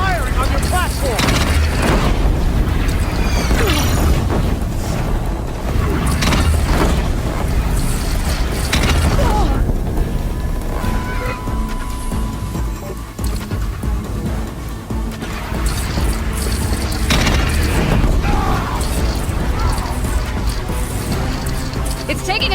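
Heavy booms and crashing blasts from enemy fire on a platform in a video game battle, dense and loud throughout with a voice speaking over the combat.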